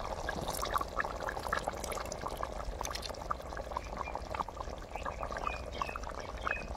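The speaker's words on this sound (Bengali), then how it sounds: "তা এখন আমি দিয়ে দেবো গোলাপ জল, কেওড়া জল আর কেশর।" Rose water and kewra water are poured into a pot of chicken biryani cooking outdoors, producing a soft, continuous splashing trickle with faint bubbling throughout, close and unvoiced.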